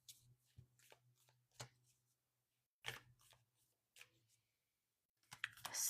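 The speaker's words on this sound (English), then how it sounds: "I'm going to move on here and pull some more cards." Tarot cards are pulled and shuffled close by in a quiet room: several quick, crisp riffling and snapping bursts separated by pauses, with a faint low hum underneath.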